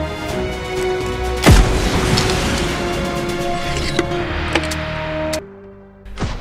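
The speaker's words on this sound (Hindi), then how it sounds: "आतिशबाजी कर लेते हैं कुछ चलो भाई निकालो रॉकेट लॉन्चर" A rocket launcher fires in PUBG Mobile with a sharp boom, then dense rumbling explosions and steady game tones carry on, with a few further sharp hits near the end.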